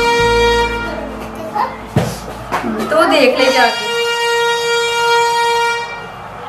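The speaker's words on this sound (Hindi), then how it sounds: "हॉर्न बजा रहे।" Milk delivery vehicle sounding a loud, sustained horn, with long steady blasts running through most of the clip while people talk nearby in the middle stretch.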